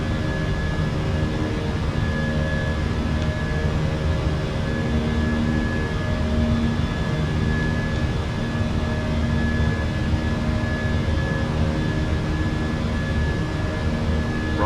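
Steady engine roar from a Fenix A320 airliner climbing after takeoff in a flight simulator game, a continuous broadband drone with faint tonal whines holding level throughout.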